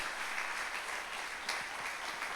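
Church congregation applauding at a worship service, a steady wash of many hands clapping at moderate distance, fairly quiet and continuous throughout.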